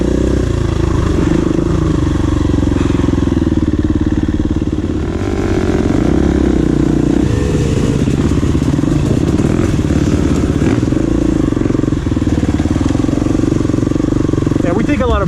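A KTM 350 EXC-F dirt bike engine runs loud and steady for the whole stretch during off-road trail riding at NATRA in West Point, Tennessee, with its throttle rising and falling slightly and no clear talk over it.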